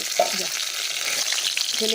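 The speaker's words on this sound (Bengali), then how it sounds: "মাছগুলো ভাজা করলাম, হালকাই করলাম লাল, আর এবার মাছের মাথাগুলো দেবো" Fish pieces and fish heads fry in hot oil, a steady broadband sizzle running the whole time with a few brief clinks of a utensil stirring, close and moderately loud, with no talk.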